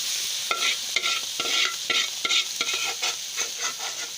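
Food sizzling and frying in a hot pan while being stirred, with rhythmic scraping strokes roughly every half second over a steady close sizzle.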